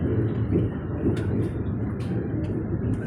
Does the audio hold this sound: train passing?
yes